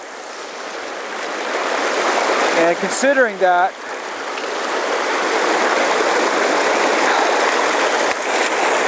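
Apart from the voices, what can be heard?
creek water flowing past a bridge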